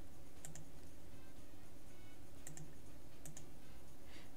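Sparse mouse clicks during a session of the idle game Cell to Singularity, a few sharp, quiet clicks in small pairs spaced a couple of seconds apart over a low steady hum, with no talking.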